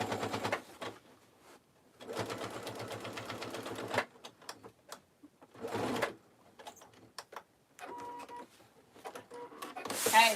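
Sewing machine top stitching around the top of a lined tote bag, several close bursts of rapid needle clatter separated by pauses and small handling noises.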